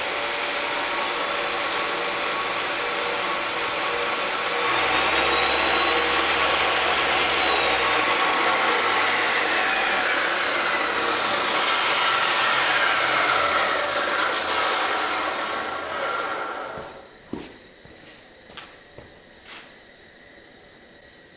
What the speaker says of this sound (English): Use the edge of your grinder